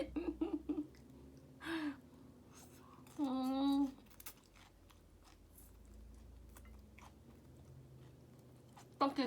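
Someone eats stir-fried bamboo shoots up close, with soft wet chewing and crunching through a quiet room, broken by a couple of brief vocal sounds.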